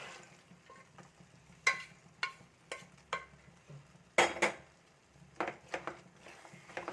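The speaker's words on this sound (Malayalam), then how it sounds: "കടല ഒഴിച്ചിട്ട് എല്ലാം കൂടെ ഒന്ന് നല്ല പോലെ ഒന്ന് മിക്സ് ചെയ്തിട്ട്" A spoon stirs boiled chickpeas into onion masala in a pot for chickpea curry, giving intermittent clinks and scrapes against the metal over a faint, quiet background.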